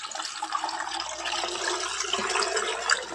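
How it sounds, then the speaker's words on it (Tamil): Boiled water, cooked with salt, being poured into a container while making Kerala-style salted raw mango pickle; a steady, close pouring and splashing sound with no talk. "தண்ணி ஊற்றிக்கலாம்."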